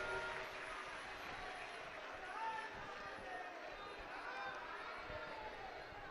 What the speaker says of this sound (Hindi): और जोरदार ताली बजाएं ब्रह्मा विष्णु महेश के लिए।